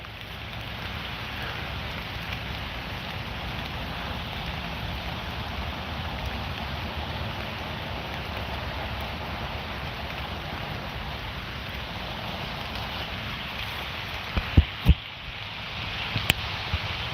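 Steady rain falls outdoors, a continuous close hiss with low rumbling wash underneath and a few brief louder knocks near the end; no talking.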